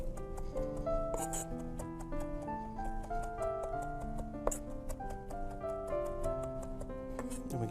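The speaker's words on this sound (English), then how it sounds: "You kind of want to do a nice little dice on them." A knife dicing fresh herbs on a cutting board, a rapid series of crisp, close taps in an uneven chopping rhythm, moderately quiet and heard alone over soft background music.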